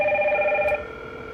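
A Hikvision modular intercom rings with an incoming call, an electronic warbling tone heard close and clear for under a second before cutting off, leaving faint background hiss.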